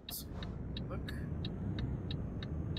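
Truck engine droning steadily in Euro Truck Simulator 2 as the rig carries 13 t of acrylic baths from Irun toward Bilbao, a low continuous rumble with faint periodic ticking clicks over it.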